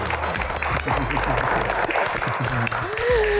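An audience at an Indonesian panel Q&A bursts into steady applause, dense clapping filling the room, while a host speaks over it.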